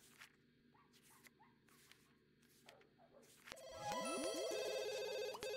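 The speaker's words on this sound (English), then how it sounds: "Answer the phone." A telephone rings in the video game The Sims 2, a bright trilling electronic ring that starts after a few soft clicks and then carries on steadily to the end.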